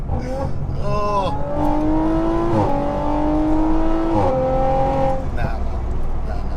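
A tuned 626 bhp Stage 3 Audi RS5 accelerating hard in second gear, heard from inside, with a loud engine tone rising repeatedly through revs, interrupted by brief shift dips and a roaring whoosh.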